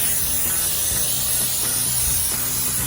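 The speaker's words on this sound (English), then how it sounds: "spray it down with my olive oil binder." Olive oil binder sprayed onto a raw brisket during prep, a steady close hiss running continuously for a few seconds without talk.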